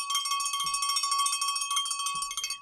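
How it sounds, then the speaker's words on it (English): A small bell rings steadily to celebrate a runner's race finish, a bright sustained ringing rattle lasting a couple of seconds, close and loud, with a couple of faint thumps and no talking. "Let's get you a bell for that, Michael."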